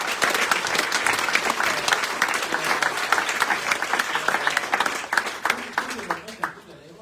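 A crowd applauds a band at an album launch, a dense rattle of clapping with voices mixed in that holds steady before thinning and fading out near the end.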